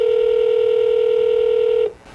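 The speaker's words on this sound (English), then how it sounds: "It's ringing." A phone line ringback tone during an outgoing call to a Microsoft support scam number, one loud steady tone held for almost two seconds before it cuts off abruptly, with no talk.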